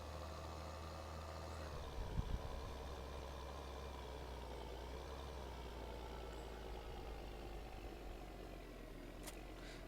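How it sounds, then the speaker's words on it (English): Tractor engine idling steadily in Farming Simulator 2013, a continuous low mechanical drone at constant level with a brief heavier bump near the start and no talk. "We have a tractor that's not moving."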